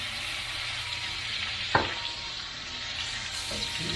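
A teaspoon of Worcestershire sauce sizzles and bubbles in a hot pan, a steady close hiss of frying with one brief sharp clink partway through, and no talking.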